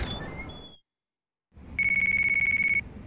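A telephone rings in the video game Yakuza 4: after a moment of silence amid game ambience, a bright electronic trill pulses steadily for about a second, clear and close.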